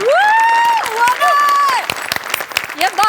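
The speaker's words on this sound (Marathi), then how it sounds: "वनिता तुझ्यासाठी स्पेशली टाळ्या" Studio audience applause and cheering on a Marathi TV comedy show, sustained clapping with a crowd roar while a voice speaks over it, then thinning into scattered claps near the end.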